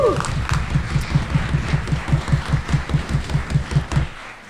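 A live audience at a board game podcast taping claps in steady unison, a regular rhythmic beat of many hands that holds for several seconds before stopping.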